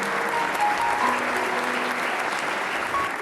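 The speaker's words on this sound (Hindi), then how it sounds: "आप सबकी भरपूर तालियों में।" Audience applause at a 14th August Independence Day program, a steady dense wash of many hands clapping at fairly close range, holding evenly throughout without a break.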